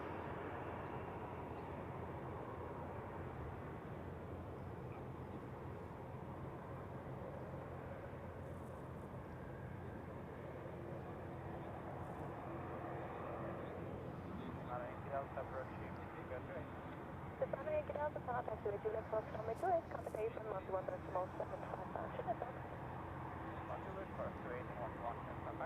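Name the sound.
Airbus A220 aircraft at Zurich Airport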